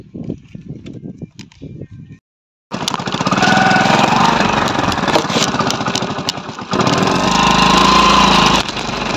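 A repaired motorbike's engine fires up after a brief quiet stretch near Chandubi lake and runs loudly and steadily, revving higher toward the end, after some faint low sounds at the start.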